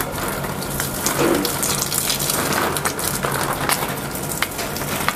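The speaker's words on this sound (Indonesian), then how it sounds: "Aku mau nyiram-nyiram dulu" Water poured over dry garden soil and potted plants, a steady splashing gush that runs continuously for several seconds with small irregular spatters.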